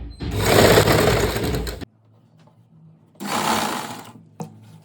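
A sewing machine stitches palazzo pants fabric in two loud, steady whirring bursts separated by a quiet pause, with a faint click at the end.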